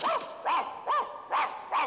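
A Shar-Pei barks repeatedly, five loud, close barks in a steady rhythm with brief pauses between them and no other sound.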